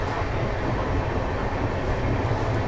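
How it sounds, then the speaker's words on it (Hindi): Passenger train running nonstop at night on a long route to Kashi, a loud, steady low rumble and rattle of the carriage heard from inside, with no talking. "खैर अब 220 किलोमीटर की हमारी ट्रेन नॉन स्टॉप भागेगी।"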